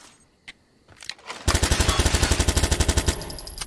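Rapid automatic gunfire in Watch Dogs 2 aimed at an object, a fast, regular burst of loud, punchy shots lasting about two seconds after a couple of quieter clicks and thuds.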